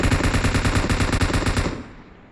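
Loud, rapid automatic gunfire from the mobile shooter Battlegrounds Mobile India, a dense burst of evenly spaced shots lasting about two seconds before fading out.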